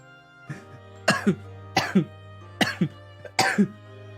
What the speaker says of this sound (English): just thinking about her made me cough